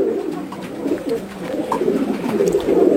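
High flyer pigeons coo softly in a low, murmuring burble close by, with a few brief throaty notes rising over a steady background hum.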